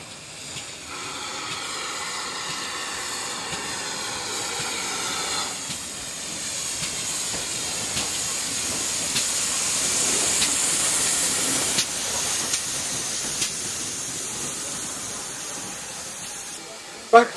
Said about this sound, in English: historic goods train.